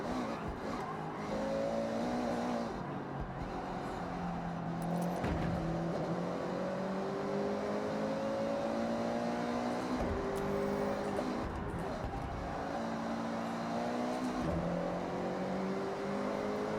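Race car engine in Forza Horizon 6 revs and climbs through gears with rising and falling pitch sweeps, loud and continuous throughout, with brief tire noise and no talking.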